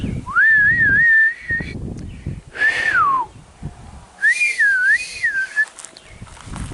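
Someone whistles a series of loud, warbling calls to summon cows, one short and falling, with brief quiet gaps and faint outdoor farm sounds between.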